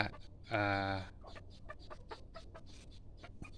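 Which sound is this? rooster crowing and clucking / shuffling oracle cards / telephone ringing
rooster crowing and clucking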